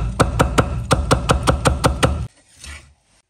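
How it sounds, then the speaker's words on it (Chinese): A knife chops onion into thin strips on a cutting board, about ten sharp, close, evenly spaced knocks in quick rhythm, then the chopping stops and a brief faint rustle follows. "少许洋葱同样用刀拍一下切成细丝"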